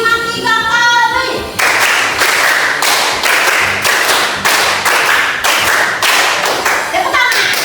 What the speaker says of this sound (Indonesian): tepuk 2 kali, tepuk 3 kali, tepuk 4 kali, tepuk 5 kali, tepuk 3 kali